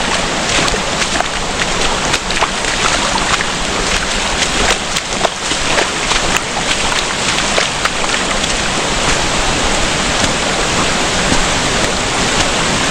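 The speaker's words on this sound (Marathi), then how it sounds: "हा बघा, इथे हा ओढा आहे" Small stream on the forest trail to Gupt Bhimashankar, swollen by monsoon rain, rushing and splashing in a dense, steady broadband roar that fills the scene without pause, close and loud, with no voices.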